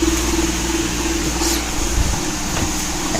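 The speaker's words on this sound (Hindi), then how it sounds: "यहाँ पंखा चला रखा है बेड सुखाने के लिए। थोड़ा सा आवाज़ आ रहा होगा इस पंखे का।" An electric fan runs indoors to dry a bed, giving a steady, fairly loud hum with a constant whirring drone underneath and occasional faint knocks, no voices present.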